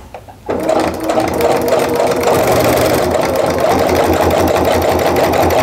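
A sewing machine backstitches fabric for a scrappy Christmas tree mug rug, starting after a brief pause and then running loud and continuous with a fast, even mechanical rhythm.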